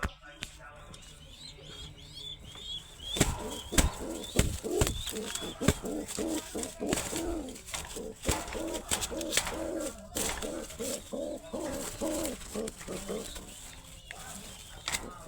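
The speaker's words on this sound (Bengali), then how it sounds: "অনেক কিউট কবুতর" Soft coos and light chirps of Sirazi and other pigeons repeat through the clip, with a person talking nearby and occasional handling noises.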